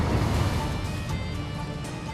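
Rough sea waves crashing and surging around a small fishing boat off Dokdo, a continuous loud, churning wash with heavy low-end roar and no voices.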